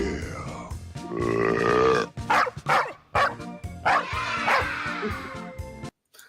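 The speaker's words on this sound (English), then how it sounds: "The dogs like to go for a ride in the car" Dogs bark and grunt excitedly in a series of loud, irregular bursts before a car ride, with short gaps between barks and close, vocal yips.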